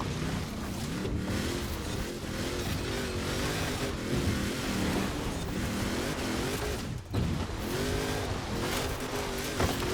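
Engine of a 1300HP Ford Bronco racing in Forza Horizon 4 online, a steady loud roar with shifting pitch as it revs and changes gear, briefly dipping once, continuous throughout with no talk.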